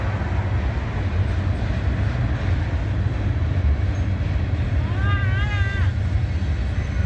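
Freight train rolling past a rail yard and roundhouse, a steady loud rumble with clattering wheels filling the whole stretch, while a voice talks over it and a brief horn-like tone rises near the end.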